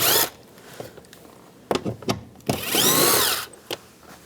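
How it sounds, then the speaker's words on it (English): A power drill fitted with a 7mm socket spins in short bursts, whirring up and stopping several times as screws are backed out of a 2015-2020 GMC Yukon side mirror assembly. "Using the same 7mm socket, take these 2 screws out"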